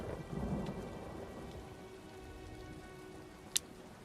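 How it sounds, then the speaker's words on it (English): Steady rain with a low thunder rumble in the Apocrypha zone of the video game Elder Scrolls Online, Necrom chapter, where the rain falls as ink; one sharp crack near the end stands out above the constant downpour. "in these parts it's not rain, it's ink"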